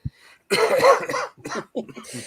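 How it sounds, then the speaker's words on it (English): A person coughs and clears their throat several times at close range, a short harsh burst followed by a run of rough, broken hacking sounds. "Somebody talk while I cough, please."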